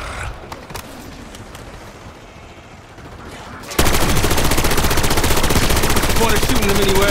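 Gunfire from the video game Call of Duty Black Ops 6, played on Xbox Series S: a quieter stretch with scattered shots gives way to sudden, loud, sustained rapid automatic fire that continues to the end.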